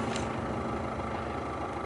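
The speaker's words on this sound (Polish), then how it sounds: "Trochę silnik zagłusza." An engine runs steadily at idle with a low, even rumble and a faint higher hiss, continuous and moderately close for the whole moment.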